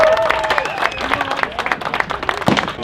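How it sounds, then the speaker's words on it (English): Audience applause at an outdoor Texas firearms festival, continuous clapping from a crowd mixed with cheering voices and some talk, one sharp louder clap burst near the end. "One more round of applause for Williamson County!"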